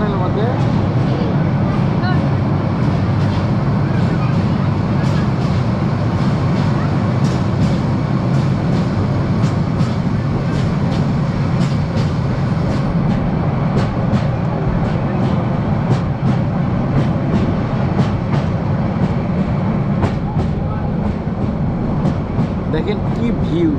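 A passenger train on the route to Cox's Bazar runs through a tunnel with a loud, continuous, close rumble and steady rattling clicks throughout, with no voices on top.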